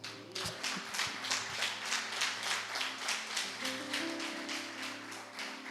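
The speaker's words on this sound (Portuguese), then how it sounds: "Você pode aplaudir ao Senhor por isso?" Church congregation applauding together in a steady, rhythmic clap lasting several seconds, fairly faint and even, over a low background hum.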